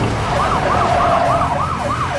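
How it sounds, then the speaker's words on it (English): A loud emergency siren wails in a fast, repeating up-and-down yelp over engine and road noise, close by and continuous. "Kill the siren."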